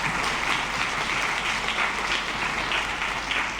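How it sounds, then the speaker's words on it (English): Audience applause fills a school orchestra concert, dense and steady clapping from a crowd throughout, with no talk over it. "please give her a round of applause and thanks as well"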